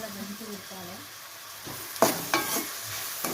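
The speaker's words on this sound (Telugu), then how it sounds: "ఉల్లిగడ్డ మొత్తం ఎర్రగా వేయించాలి ఫ్రెండ్స్. ఎర్రగా అయినాక నూనెలో మంచిగా ఉడకాలి, మసలాలి." Onions browning in hot oil for bagara rice, giving a soft, close sizzle with a few sharp stirring scrapes; a voice talks briefly at the start.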